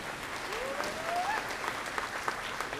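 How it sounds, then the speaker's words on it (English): Graduation audience applauding in a full, warm hall at a college of liberal arts and education commencement, a steady wash of clapping with a faint rising whistle in the middle. "clap for yourselves"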